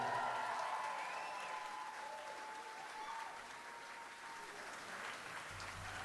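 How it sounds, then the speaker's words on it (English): Wedding guests at The Merion in Cinnaminson, NJ applaud the couple with steady, dense clapping that fills the room for about six seconds, with a faint sustained tone behind it. "Let's give a round of applause for our couple here"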